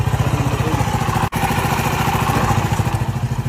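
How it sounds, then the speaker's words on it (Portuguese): A running Pop 100 motorcycle idles with a steady putter while its loose license plate rattles rapidly in rhythm with the engine, close up, with one brief dropout in the sound. "Placa batendo aí."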